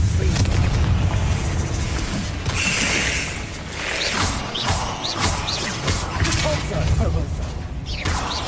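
A Confringo blasting spell explodes in the Hogwarts Legacy video game, with booming, crashing bursts inside a dense, loud wash of game effects that continues throughout.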